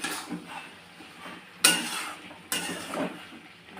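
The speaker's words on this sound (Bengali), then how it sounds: "এবার দিয়ে দেবো আলু বেগুন, ভেজে রাখা আলু বেগুন দিয়ে দিলাম, ভালো করে কষে নেব।" Fried potato and eggplant are stirred into cooked-down tomato and spice powder in a pan, with soft stirring scrapes and two sharp metallic clanks against the pan over a faint background.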